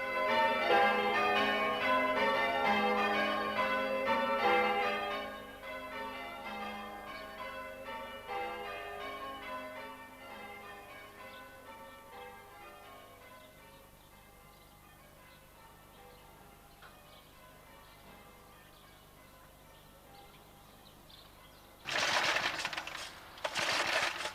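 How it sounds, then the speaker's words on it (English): Bells ring in a dense, overlapping peal that fades into a lingering hum, then a few louder clangs return near the end. "to keep the church alive through the sound of the bells"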